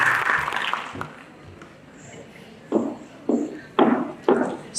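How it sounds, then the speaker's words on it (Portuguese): Audience applause at a regional education, science and technology forum roundtable, a few short bursts of clapping rising out of a quiet hall after an introduction. "Peço palmas para Larissa Cristina Cruz Brum."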